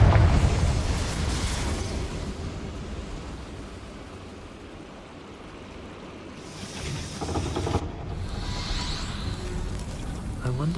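In Hogwarts Legacy, a Confringo fire-blast spell bursts with a loud, roaring explosion that rumbles and fades, then swells again into a rushing blast, with a brief voice nearby.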